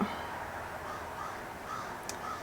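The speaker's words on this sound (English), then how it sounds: "That crow again. He's a loud one, I tell ya." Crow cawing outdoors, a few faint repeated caws spaced apart over a steady low hiss of background noise.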